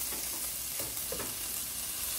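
A sautéed filling for a chicken and hearts-of-palm pie sizzles softly in a pan as green herbs are added, a steady, faint frying hiss broken by a few light stirring scrapes.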